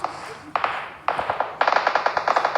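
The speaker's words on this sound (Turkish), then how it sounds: "nereye sıkıyorsunuz 2 saattir bu mermiyi ya?" Rapid bursts of gunfire in quick volleys, loud and close, with a short pause between the first shots and a denser run of rounds at the end.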